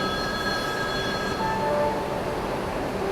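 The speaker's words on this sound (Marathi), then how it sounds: "लोकलची एकच ट्रेन आली आणि इकडे एक दुसरी" Steady rumble of a Mumbai local commuter train nearby, with faint high squeals and tones from the rails, continuous over a few seconds.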